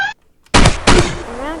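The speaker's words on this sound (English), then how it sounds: "that's when an enemy shoots you" Enemy gunfire in the horror shooter Night of Parasite, two loud close blasts about a third of a second apart, each ringing out and decaying, after a short quiet gap.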